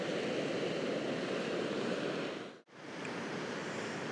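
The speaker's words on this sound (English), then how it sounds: "Look at these waves." Sea waves washing against a harbour wall in Orkney, a continuous loud rush of surf and wind noise that briefly drops out near the end before surging back.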